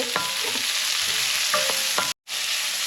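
Onions sauté and sizzle in a pan with a steady, close frying hiss, broken by a few light stirring scrapes and a very brief dropout near the end.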